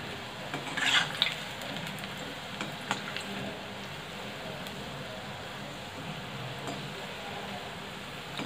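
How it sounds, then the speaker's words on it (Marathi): Bhaji frying in hot oil over a low flame gives a steady, even sizzle that runs throughout, with a few light clinks from a utensil early on and no voices. "आणि असे तेल तापून घेऊन मंद गॅसवर तळायचे"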